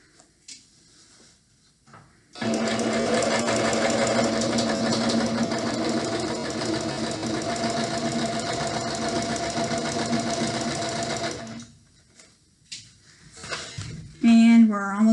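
A sewing machine stitches along the pinned edges of a pillowcase in one steady, fast whirring run of about nine seconds. Brief handling sounds come before and after, and a voice begins speaking at the end.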